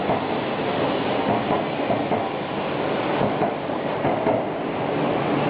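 A Shinkansen train rolls along a Tokyo station platform, with steady wheel rumble and rhythmic clatter over rail joints, loud and close, alone without talk.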